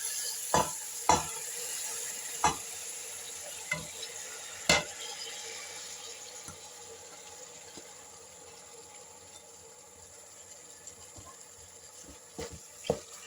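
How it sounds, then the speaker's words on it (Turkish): Çiriş otu (Eremurus) being stirred and sautéed in a pan, giving a soft, steady sizzle, with a few sharp scraping clicks of the utensil near the start and again toward the end. "Kiriş otunu ekledikten sonra birazcık kavurdum."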